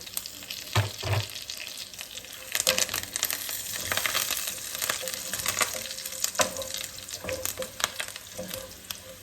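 Cumin seeds and curry leaves fry in hot tempering oil, giving a loud, close sizzle with sharp bursts of crackling and popping, plus a few utensil scrapes against the pan and no talking.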